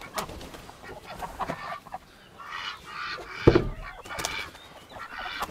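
Chickens cluck and squawk on a small farm that keeps its animals rather than raising them for meat, irregular calls near and farther off, one sharp loud squawk mid-way.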